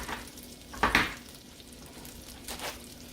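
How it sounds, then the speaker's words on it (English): Chopped onion dropped into a hot oil and butter mixture in a pan, giving a short burst of sizzling and a scraping stir close by, then a quieter simmering fry with another brief stir, no one talking. "To this oil and butter mixture, I'm going to be throwing me some chopped onions down in here."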